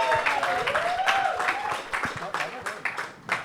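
A comedy roast-battle audience gives applause and cheers: scattered claps and crowd noise that thin into separate sharp claps toward the end, mixed with voices.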